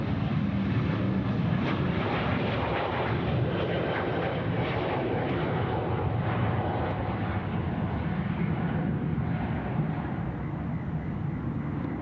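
Airliner landing on runway 34 left at Sydney Airport, a steady loud roar of jet engines and rushing air that holds unbroken throughout.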